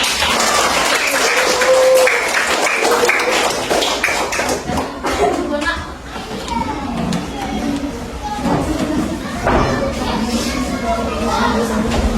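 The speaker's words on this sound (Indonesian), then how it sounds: "Tepuk tangan dulu untuk kelompok 1." Applause from a classroom audience for a student group that has just finished presenting, dense clapping and tapping filling the room steadily with a teacher's voice heard over it.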